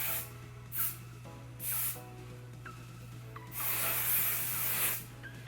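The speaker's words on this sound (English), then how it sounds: "All I'm going to do now is spray it with just a little bit of hairspray." Hairspray sprayed onto hair from a can in a few short bursts, sharp close hissing puffs separated by pauses, with one longer spray near the end over a steady low hum.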